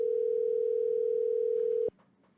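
A steady telephone ringback tone holds unbroken for nearly two seconds while a call waits for someone to pick up, then cuts off abruptly into quiet room noise with faint voices.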